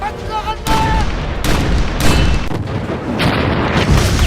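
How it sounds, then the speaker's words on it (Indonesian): Artillery fires in all directions in a battle, with repeated heavy booms and crackling bursts coming one after another, loud and dense. "meminta anak buahnya untuk segera menembak artileri ke segala arah"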